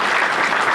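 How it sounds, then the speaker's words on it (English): A crowd at a press conference for ballpark design competition winners claps in a brief, dense burst of applause, steady and fairly loud with no voices on top. "Can we give the winners another round of applause"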